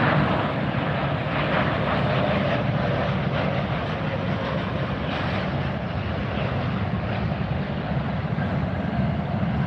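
An Allegiant airliner arrives at Fort Lauderdale airport, a steady, loud broadband jet roar that fills the whole stretch without fading, with no voices over it.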